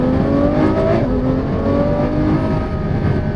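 A 730bhp Ferrari F12 engine downshifts into second gear, its loud, close exhaust note swelling and dipping in a steady roar from start to finish.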